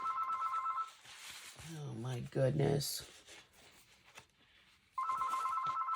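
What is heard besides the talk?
telephone ringing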